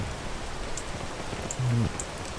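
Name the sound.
rain in a video game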